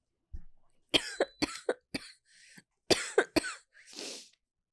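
A person coughs repeatedly, several sharp close bursts spread over a few seconds with short pauses between, ending in a breathy throat clear.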